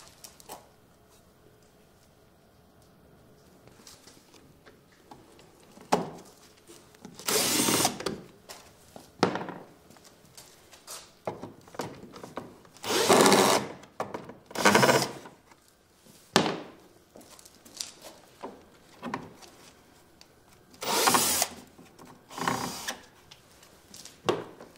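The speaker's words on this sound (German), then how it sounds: "Dafür schraubt man erstmal mit dem T30 Torx die 4 Schrauben ab." Bumper screws on a Mercedes-Benz W639 Vito being undone with a T30 Torx bit, heard as several short, separated bursts of a cordless driver whirring between quieter pauses and clicks.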